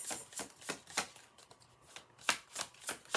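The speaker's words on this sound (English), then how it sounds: "These cards shuffle so nice." Tarot cards are shuffled in quick riffling bursts, a crisp papery flutter repeating several times in a row, close and fairly soft, with no talking.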